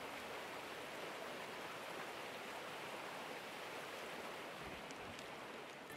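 Water flows steadily where a waterfall meets a creek in the Gold Rush video game, a faint, even rushing wash without pauses or voices.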